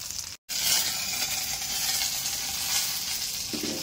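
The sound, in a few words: capsicum roasting in a pan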